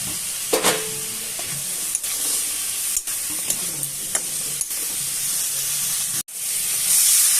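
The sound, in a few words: fried brinjal and potato added to fish curry pan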